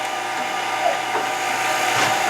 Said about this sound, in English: Use my parting tool here to define the foot.